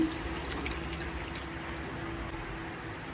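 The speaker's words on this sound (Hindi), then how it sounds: "थोड़ा सा डालूँगी मैं पानी" A little water is poured into cauliflower cooking in a pot, a soft continuous trickle and splash heard close up, steady for a few seconds with no voices.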